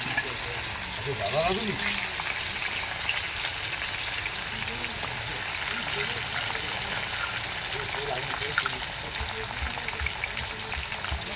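Potatoes frying in hot oil with cumin seeds for a chickpea and pumpkin dish, a steady close sizzle and bubbling running throughout, with no speech heard.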